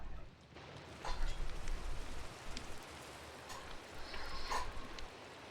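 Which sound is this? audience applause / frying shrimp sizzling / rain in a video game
rain in a video game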